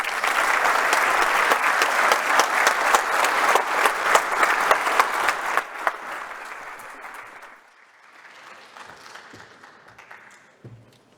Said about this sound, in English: let's give another round of warm applause to Mrs. Rosana Costa's presentation